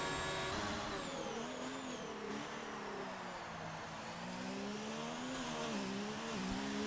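Formula racing cars in a racing video game at the Canadian Grand Prix, with a Ferrari among them, heard as a steady high engine whine rising and falling through gear changes and revs, loud and close throughout.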